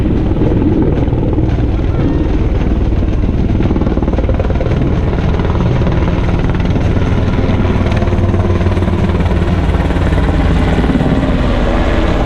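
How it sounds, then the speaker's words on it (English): An aircraft from the 512th Rescue Squadron, 58th Special Operations Wing, Kirtland Air Force Base, flies over an Air Force basic training graduation, a loud, continuous rotor and engine roar filling the air throughout. "This aircraft is from the 512th Rescue Squadron, 58th Special Operations Wing, Kirtland Air Force Base, New Mexico."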